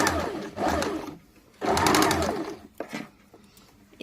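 A sewing machine joins a fabric strip to a kameez sleeve in two loud running bursts, each about a second long, with quieter pauses between and a few short stitches near the end.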